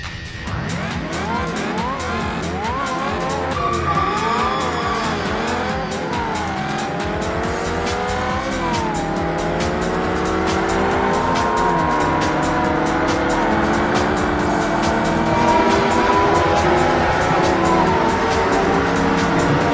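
Race cars roar through a Ford Racing 2 video game race, engines revving loud and close with rising and falling gear shifts, tyre squeals and a dense pack of cars blending into a continuous high-pitched drone.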